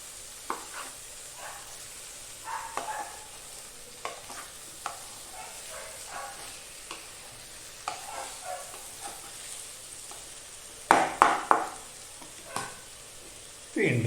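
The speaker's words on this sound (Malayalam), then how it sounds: "ഒന്ന് ഇളക്കുക." A tomato, egg and potato mixture is stirred while frying in a pan: a steady soft sizzle runs underneath as a spoon scrapes in repeated strokes, ending with a few louder clattering knocks.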